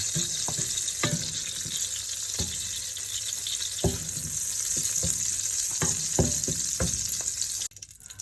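Hotdogs pan-grilling in a skillet before the sautéing starts, giving a steady close sizzle with scattered sharp spatter pops and a few scraping stirs, which drops off abruptly near the end.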